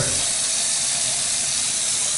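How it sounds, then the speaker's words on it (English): A faucet in an apartment bathroom runs at strong pressure, giving a steady, close, bright splashing hiss with no pauses or voices. "Let's turn this on again. Nice water pressure there."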